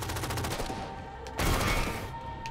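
Gunfire from a weapon in the shooter game Halo 4: rapid repeated shots rattle through the first second, then a louder, sharper burst hits at about one and a half seconds and fades, with no talking.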